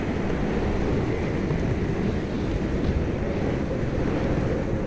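Steady, loud roar of storm wind outside in Pacific Drive, a dense unbroken rush with no other sounds over it.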